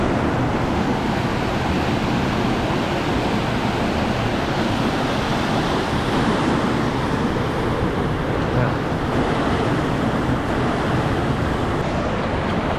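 Rushing river water on Réunion churns through swirling eddies, a loud, continuous broadband roar up close with no voices over it.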